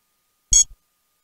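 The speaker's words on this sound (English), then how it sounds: "So we apply here and we see the red light. So it means a request charge. So make sure this is on. Let's see. One beep is on." Wireless dog training collar with 1800 ft range gives a single short electronic beep, clear and close in otherwise silent surroundings.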